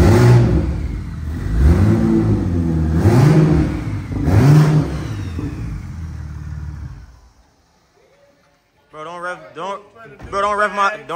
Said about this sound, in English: Don't rev my shit up like that, bro.